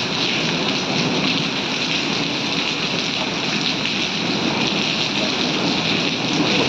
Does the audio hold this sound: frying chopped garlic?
no